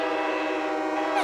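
A cartoon ship sounds a long, sustained whistle blast with a rich harmonic tone, loud and steady throughout, with a slight shift near the end.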